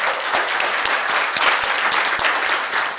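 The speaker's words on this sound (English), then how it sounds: "Can we give a round of applause to Missouri Game Con for hosting this?" An audience at a Missouri Game Con 2018 convention panel applauds: loud, continuous crowd clapping with a few sharper individual claps standing out, sustained evenly to the end with no talking.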